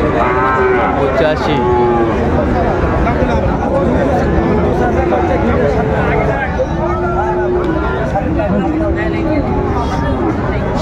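Sahiwal bull and other cattle at a busy Chattogram livestock market, lowing and mooing repeatedly at close range over a constant hubbub of crowd chatter and voices.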